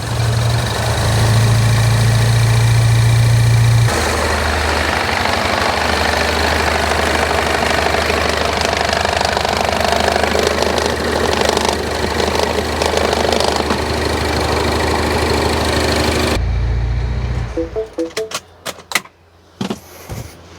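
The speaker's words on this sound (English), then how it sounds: "AC it's on. Yeah. Compressor is spinning." A MINI Cooper S engine idling with the AC compressor spinning, heard close up as a steady mechanical hum and clatter. A louder droning tone sits on top for the first few seconds, and near the end the engine cuts off into quiet, scattered clicks.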